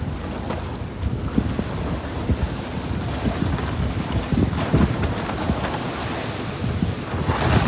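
Steady wash of open-sea waves and wind rushing past in the middle of the West Philippine Sea, a continuous broadband roar with rolling surges and no voices.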